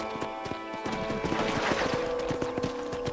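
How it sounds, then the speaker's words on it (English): Hooves clip-clop in a quick rhythm as a horse in the Western video game Red Dead Redemption trots close by, with a brief neigh mixed in. "I will name this horse a name very special to me."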